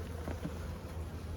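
Honey bees buzzing inside a hive during early-season feeding with pollen cake, a low steady drone close by and alone.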